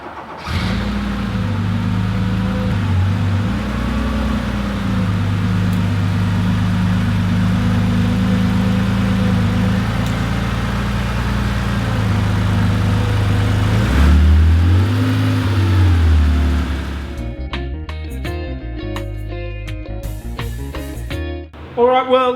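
A Porsche 911 2.8 RSR engine being cold-started and tuned before dyno runs, with a loud, steady idle that rumbles for a long stretch, briefly surges as it is revved, then falls away into rattling, uneven noise.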